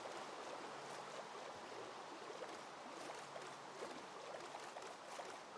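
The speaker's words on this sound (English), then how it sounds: "I think that waterfall will get me kind of close" Steady rushing water from a waterfall in a video game, a constant broadband roar heard alone at moderate distance with no voices.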